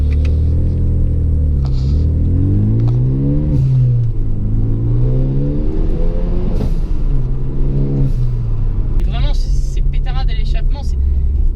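A Renault Mégane 3 RS engine revs up through rising gear pulls from a standstill, its pitch climbing repeatedly as it accelerates, with someone talking over the engine noise.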